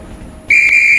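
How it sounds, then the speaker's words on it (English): A train whistle in a Roblox train game starts abruptly and blows as a loud, steady, high-pitched tone that runs on without a break after a quiet moment. "You, sir, can calm yourself down with that bloody whistle over there."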